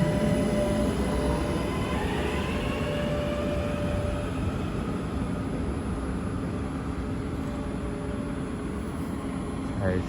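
A Northern Class 331 electric train at Deansgate station, a steady loud rumble of wheels on rail with a thin squeal and hum running throughout.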